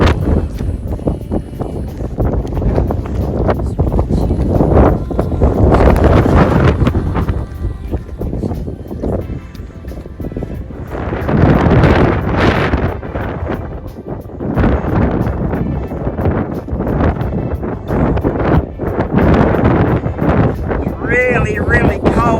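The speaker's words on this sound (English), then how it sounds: "When you're in the full gust of that wind, it's blowing." Strong, cold wind buffets the microphone in loud, rough gusts that swell and ease, with walkers talking underneath, on the Camino Francés.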